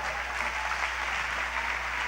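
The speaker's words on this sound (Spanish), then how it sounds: "Dale un fuerte aplauso a Jesucristo." Sustained applause from a church congregation fills the room, an even wash of clapping hands that holds steady throughout with no speech over it.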